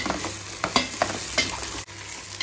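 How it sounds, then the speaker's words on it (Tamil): Onions with ginger garlic paste sautéing in a pan for prawn biryani, with quick close spoon scrapes over a steady frying sizzle, one sharp knock near the end, no talk. "நல்லா வதக்கணும்."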